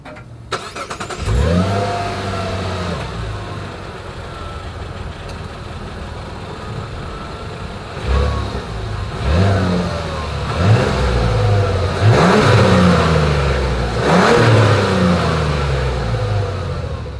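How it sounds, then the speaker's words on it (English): A 2024 Mazda CX-90 SUV engine starts, then its exhaust revs repeatedly in rising, throaty surges, loud and close, settling to idle between the blips. "As always, here is that exhaust clip."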